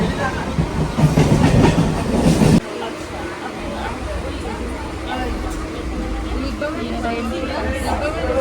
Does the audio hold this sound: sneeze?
no